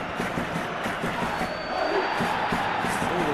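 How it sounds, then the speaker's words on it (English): Crowd in a PES 2021 football video game match between Real Madrid and Girona, a steady broad roar of cheering throughout, rising slightly in the second half, with no voices in the foreground. "Forward tracking back like that, always appreciated by the crowd."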